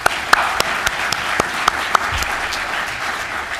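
Audience applause at a bowling congress annual meeting, a steady wash of clapping across the hall with a few sharp, close claps standing out, continuing for several seconds.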